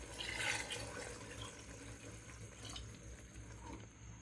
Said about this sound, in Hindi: अब हम इसमें पानी शामिल करेंगे।